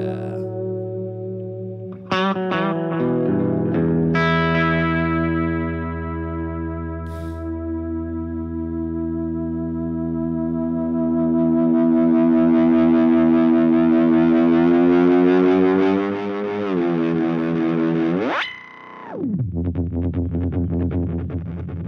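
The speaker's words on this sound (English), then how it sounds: "no delay will sound better than that. We had to hear the Memory Man." Electric guitar run through a Memory Man delay pedal with heavy modulation and vibrato, sustained chords smearing into warbling chorus-like repeats and echoes, loud and continuous, swelling and bending near the end.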